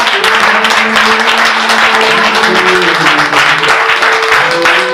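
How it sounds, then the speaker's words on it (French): A church congregation claps together at a consecration service for the Mahanaïm camp, a loud, steady wash of applause running throughout, with sustained sung or hummed tones beneath it. "Applaudissons au Seigneur"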